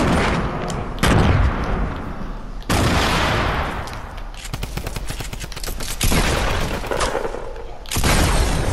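Grenades spammed in Fortnite explode in a rapid barrage, loud repeated blasts with crackling bursts and gunfire-like rattles packed close together across several seconds.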